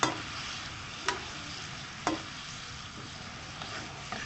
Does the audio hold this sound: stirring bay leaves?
yes